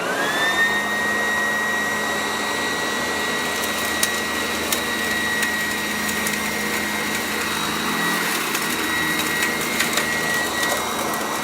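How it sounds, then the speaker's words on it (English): A red, white and blue vacuum cleaner runs steadily and loud throughout, a constant motor whine with a high pitched tone, with no talking. "I'm using one of my red, white, and blue vacuum cleaners"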